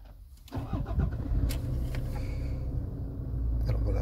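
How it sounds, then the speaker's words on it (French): Toyota KDJ120 engine cranking and catching, then settling into a steady low idle rumble, with someone speaking over it. "Je peux mettre le contact et démarrer le moteur."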